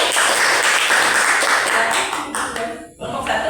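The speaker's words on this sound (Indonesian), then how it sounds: "Beri tepuk tangan dulu untuk kelompok 2." A classroom full of students applauding a group, dense steady clapping from many hands close by, with a brief dip in the noise before the clapping picks up again.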